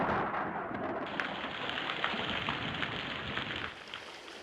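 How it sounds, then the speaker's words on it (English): Heavy pouring rain with thunder, a dense steady roar of falling water and low rumbling, loud and continuous, easing slightly near the end. "Oh, it's pouring rain."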